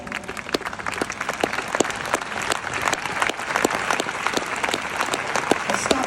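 A large audience applauds at a keynote speech at the Greator Festival 2022 in Cologne, sustained dense clapping with sharp individual claps standing out, filling the whole stretch.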